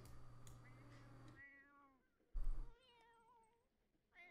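Cats in The Sims 4 meowing in a few drawn-out, wavering calls, close and clear, with short gaps between them and no talk over them.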